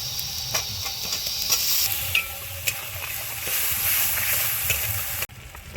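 Potato pieces sizzle in a pan with spices and dried chili powder for a fish curry, a steady close frying hiss with intermittent spoon scrapes and taps, cutting off abruptly at the end.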